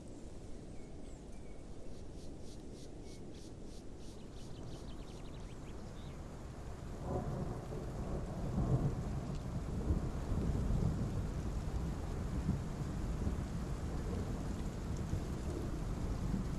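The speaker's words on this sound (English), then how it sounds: "A thunderstorm is about to hit the Grand Plains." A thunderstorm rolls over the Grand Plains in the Path of Titans dinosaur game: steady rainfall hisses throughout, and deep thunder rumbles swell in from about midway and keep rolling near and loud, with no voices.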